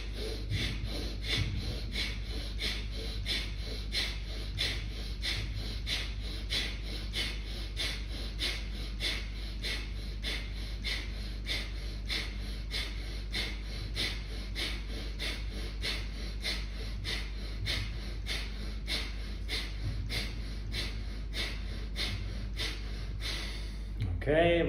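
A group doing a rapid breathing exercise, with quick, forceful breaths in a steady, fast rhythm that continues without pause for about twenty-five seconds.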